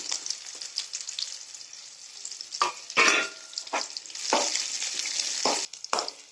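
Onions, chillies and curry leaves frying in hot oil in a pan, a close crackling sizzle broken by several loud clattering bursts as the mixture is stirred.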